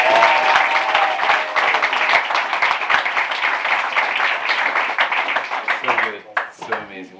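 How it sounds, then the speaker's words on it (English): Enthusiastic audience applause at a live music show, many hands clapping with a brief whoop at the start, gradually thinning out until a few scattered claps remain and a voice speaks at the close. "Let's give a huge round of applause for Casey."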